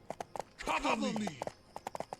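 Horse hooves clip-clop in a video game, crisp paired hoofbeats trotting in an even rhythm, briefly interrupted by a voice speaking before the steps resume, moderately close.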